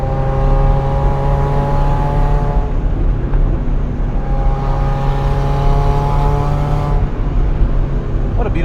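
A Mazda Miata's engine drones loud and close as the car is driven hard on a mountain road, its steady pitch breaking with gear shifts between long pulls.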